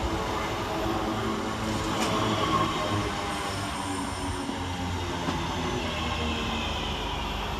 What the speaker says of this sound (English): Arriving next into the station 6 minutes late is 323234 with the 1643 Northern service from Manchester Airport to Liverpool Lime Street.